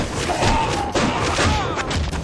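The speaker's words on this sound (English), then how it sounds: "Shotgun time." Shotgun blasts from the side-scrolling action game Shank, dull heavy thuds buried in a dense, noisy mix of game music and effects with no clear separation between shots.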